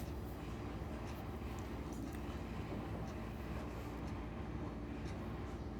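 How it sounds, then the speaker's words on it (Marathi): A Konkan Railway goods train rolls past a level crossing under dark rain clouds, making a faint, steady rumble that continues without a break. "ही मालगाडी चालली आहे."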